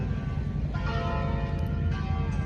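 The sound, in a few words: church bells ringing in Venice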